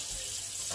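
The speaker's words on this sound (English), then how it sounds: "So I'm going to give these a quick rinse." Tap water running over baking pans during a quick rinse, a steady close rush of water lasting under a second.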